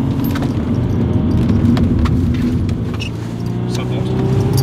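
A 2004 Audi A4 B6 with a 2.5 TDI V6 diesel, heard from inside the cabin as a steady engine drone whose tone dips briefly around a shift into second gear, then rises again, with a voice talking over it.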